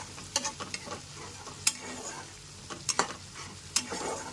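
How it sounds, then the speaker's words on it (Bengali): Spice paste of turmeric, Kashmiri chilli powder and chilli powder with cumin, stir-fried over a low to medium flame for a pointed gourd and prawn curry. A soft steady sizzle runs under repeated scraping strokes of a spatula against the pan. "এবার মশলাটাকে খুব ভালো করে কষিয়ে নিতে হবে।"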